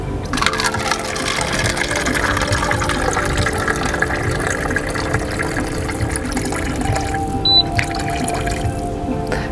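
A Smart Oasis air-to-water machine dispenses water at the press of a button, giving a steady trickling, splashing flow with a faint mechanical hum, fairly close and continuing for several seconds with a brief click near the end.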